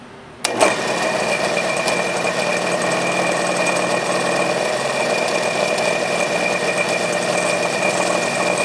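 A milling machine runs in a workshop, starting with a sharp click and then settling into a steady mechanical whir with a high motor whine that holds evenly throughout, with no voices.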